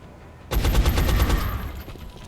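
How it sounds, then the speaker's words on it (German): Automatic gunfire in the turn-based strategy game XCOM: a rapid burst of loud, evenly spaced shots starting abruptly, then trailing into a fading echo, with no voice over it. "Schuss hat nicht gesessen."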